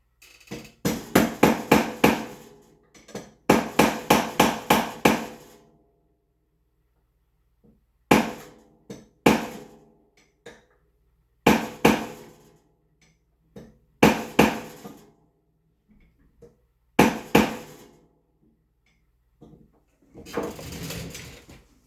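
A small hammer taps mainspring pins into an 1858 Remington New Model Army revolver in clustered bursts of sharp metallic knocks, close and loud, separated by silent pauses.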